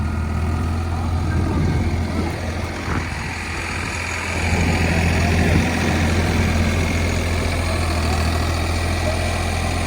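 Farmtrac 60 tractor engine on dry, dusty farmland as the clutch is let out and it begins to move off: a loud, steady diesel drone with a strong low hum throughout, close and continuous.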